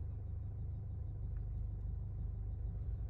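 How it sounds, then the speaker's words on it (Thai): A 2021 Isuzu MU-X idles in Park just after being started, a steady, close, low engine rumble holding an even level throughout with no voices. "ตอนนี้สตาร์ทรถเรียบร้อยนะครับ"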